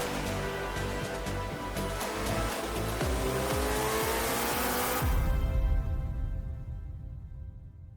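Car engine and exhaust from a car commercial played back, a sustained revving roar with tire squeal, then a sharp cut to a fading lower rumble.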